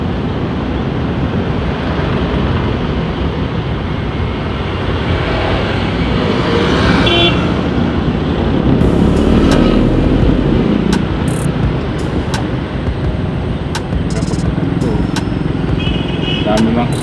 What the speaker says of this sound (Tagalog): Dami mga kasabayang sasakyan,